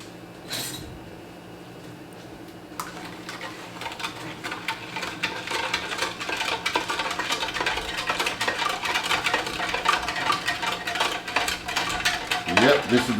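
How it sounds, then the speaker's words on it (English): A utensil stirs salt brine in a bowl for pickling giardiniera, making quick scraping clinks that start sparse and grow busier and louder, close by with only a little talk. "Give this a stir."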